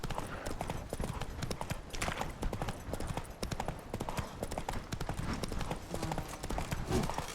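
Steady rhythmic hoofbeats of the horse Roach galloping in The Witcher 3, a continuous clip-clop that carries on throughout with occasional faint voices and game ambience underneath.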